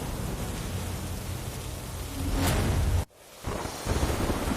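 Heavy monsoon rain in rural Khambhalia, Devbhumi Dwarka, pours as a steady broadband roar, briefly dropping out before resuming at full strength.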